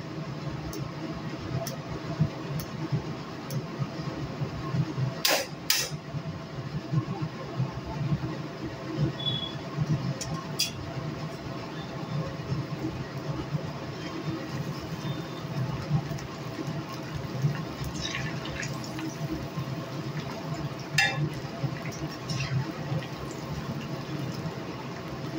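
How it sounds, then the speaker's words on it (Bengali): Jhuri bhaja, a Bengali gram-flour batter snack, frying in hot oil: steady, dense sizzling and bubbling that runs continuously, with a few faint clinks of a utensil now and then and no talking. "দেখুন কি সুন্দর ঝুরিটা ভাজা হচ্ছে"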